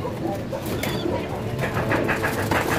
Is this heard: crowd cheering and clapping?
no